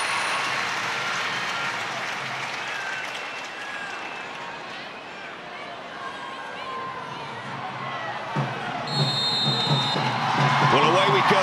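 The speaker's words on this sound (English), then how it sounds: "Huge applause in the King Power." Stadium crowd at King Power Stadium applauding as England players take the knee before a women's Nations League match against Belgium, a broad sustained wash of clapping and crowd noise that swells slightly toward the end.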